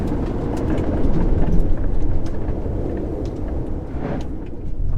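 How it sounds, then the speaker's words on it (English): A 2022 Toyota Highlander XSE AWD rolling over washboard gravel off-road, a dense continuous low rumble and rattling road roar with small knocks throughout, fairly loud and steady. "As you can probably hear in the camera, washboard effect, off-road."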